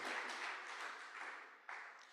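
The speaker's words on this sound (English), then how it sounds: "I'll accept a round of applause." Audience applause at an investment forum launch, a broad steady wash of clapping from a crowd that fades slightly, then swells again briefly near the end.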